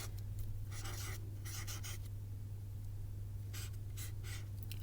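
Pencil writing on a phonics worksheet comes as short scratchy bursts of strokes, close and quiet, over a constant low electrical hum with no talking.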